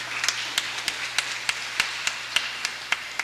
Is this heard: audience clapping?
yes